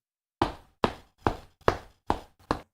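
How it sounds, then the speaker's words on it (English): Six evenly spaced heavy thuds like footsteps, each a sharp impact with a short decay, loud and close against silence. "let's just say I put footsteps"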